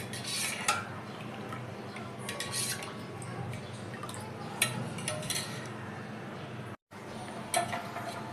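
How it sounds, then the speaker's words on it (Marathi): Ground raw mango panha being mixed with a little cold water, giving soft clinks of a utensil against a bowl and faint liquid stirring, fairly quiet with brief louder taps. "मिक्स करणार आहोत."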